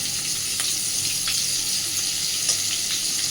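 Butter melting and oil heating in a pan for prawn rice, a steady close broadband sizzle with a few faint crackles and pops, no voices.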